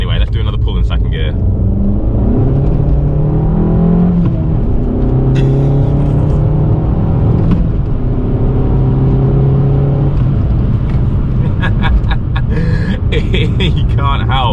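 An Abarth 500 with a stage 1 tune accelerates hard in second gear, the engine note rising in repeated sweeps as revs climb, loud and close, with gear changes and road rumble underneath.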